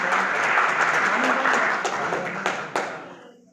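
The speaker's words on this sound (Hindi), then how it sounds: "एक बार जोरदार तालियां हो जाए अंकिता चौहान के लिए।" Loud, close applause from an audience at a cow-protection awareness event at Jiwaji University in Gwalior, dense at first, then thinning to a few last claps and fading out.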